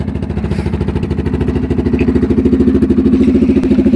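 A Polaris Sportsman 500 ATV engine idles close by with a steady chug, its rapid even pulses holding for several seconds and growing slightly louder partway through.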